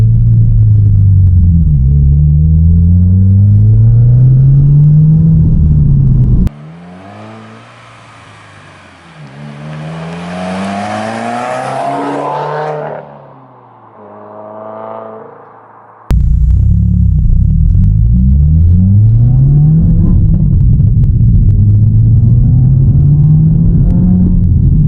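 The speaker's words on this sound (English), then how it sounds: "It's gonna be louder, and it's gonna sound like a 4-cylinder instead of a 6." A 2019 Subaru WRX four-cylinder car passes by, its engine rising to a loud rumbling rev as it approaches, then a quieter droning pull away, between stretches of loud in-car engine drone.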